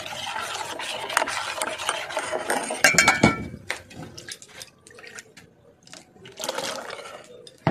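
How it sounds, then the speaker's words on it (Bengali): A utensil scrapes and clinks steadily inside a vessel as water is stirred into homemade watermelon sherbet, with close rubbing and sloshing strokes that pause briefly before resuming. "একটুখানি জল দিতে হবে, বড্ড মোটা হয়ে গেছে।"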